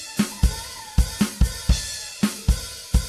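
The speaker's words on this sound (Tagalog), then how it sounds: "ito yung tunog ng drum." A recorded drum track for a home-composed song: a steady groove of sharp kick and snare hits with splashy cymbal wash, about a dozen crisp strikes in even rhythm, close and clear with no voices.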